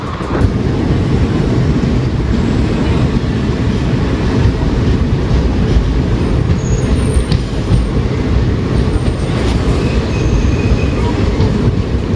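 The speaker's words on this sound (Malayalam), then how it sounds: "താനൂരിലേക്ക് ഇപ്പം മംഗലാപുരത്തേക്ക് പോകുന്ന എറണാട് എക്സ്പ്രസ് വരും കേട്ടോ" The Ernad Express, bound for Mangalore, pulls into Tanur station with a loud, continuous rail rumble, near and sustained. Faint squeals sound now and then above the rumble, and voices may be faint underneath.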